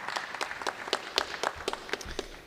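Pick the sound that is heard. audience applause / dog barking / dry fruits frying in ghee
audience applause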